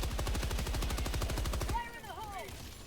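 Rapid automatic gunfire in the video game Helldivers 2, a fast even burst of loud shots lasting under two seconds, then cut off and followed by quieter whirring game effects.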